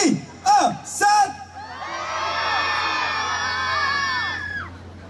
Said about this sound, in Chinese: 而且是大家都尖叫